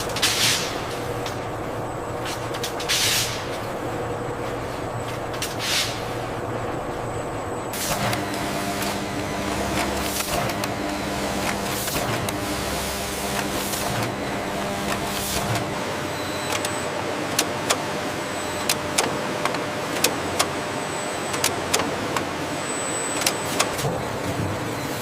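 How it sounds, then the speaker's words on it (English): Stainless steel industrial machinery extrudes continuous ribbons of chewing gum dough with a constant mechanical hum and whir, broken by sharp hissing bursts and, later, scattered clicks and ticks. "long, continuous ribbons of gum dough are extruded from the stainless steel machinery"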